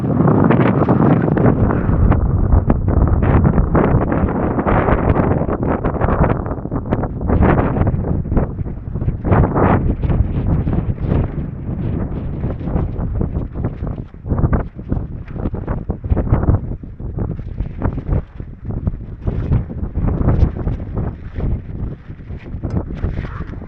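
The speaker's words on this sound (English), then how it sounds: "I hope this wind dies down." Strong gusty wind buffets tents at a wild camping spot in the Peaks, roaring and rumbling continuously with rising and falling surges of flapping and microphone buffeting.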